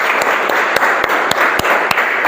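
Church congregation applause, a steady wash of clapping with several loud, distinct nearby claps standing out at a regular beat.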